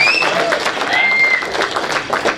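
An audience claps at a film song event, a brief burst of crowd applause with whistles and voices mixed in.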